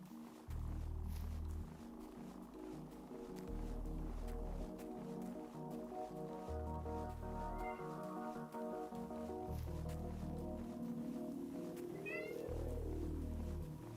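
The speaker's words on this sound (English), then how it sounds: "Sorry about my cat in the background." A hungry pet cat meows faintly in the background of a Generation Zero game stream, the calls half-buried under loud, pulsing game music and effects.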